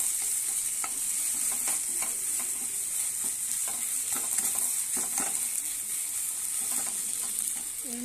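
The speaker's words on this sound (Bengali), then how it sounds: "10 মিনিটের মতো ভালো করে আমি ওটাকে ঢাকনা দিয়ে ভেজে নিয়েছি" A vegetable filling for paratha fries in a pan, stirred throughout with steady sizzling and spatula scrapes, close and continuous with no voices.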